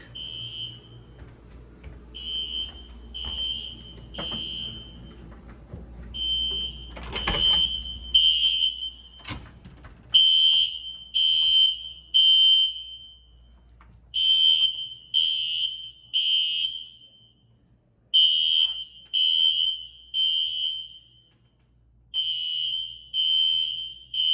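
Hotel fire alarm beeping in a repeating pattern of short, shrill tones, a false alarm, interrupted by a couple of sharp knocks, with faint background sound.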